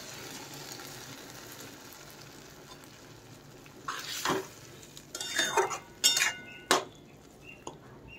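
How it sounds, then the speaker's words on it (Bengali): Cornflour slurry poured into a sizzling pan of chili egg dish, faint background at first, then a burst of hissing sizzle with utensil clinks against the pan, fairly close, no voices. "এই কর্নফ্লাওয়ারের জলটা আমি এর মধ্যে ঢেলে দিচ্ছি।"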